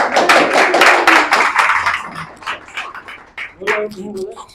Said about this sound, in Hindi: हमारे सर जी के लिए एक बार जोरदार ताली हो जाए